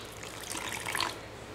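Water poured into a semolina and yogurt uttapam batter in a kitchen, a close, steady liquid trickle that swells briefly before easing off, heard alone without speech.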